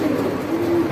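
A caged pigeon gives a soft, low coo, one brief sustained call heard up close.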